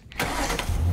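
A truck engine starting in the Roblox game Jason Bay FL: a short cranking burst that catches into a steady low idle, close and alone.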